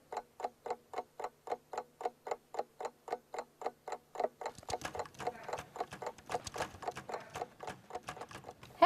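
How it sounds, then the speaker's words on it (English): Wind-up clock ticking steadily and close, a regular tick-tock rhythm for about four seconds, then a busier clattering of rapid mechanical taps follows. "If I wind it up, tick, tock, tick, tock, tick, tock."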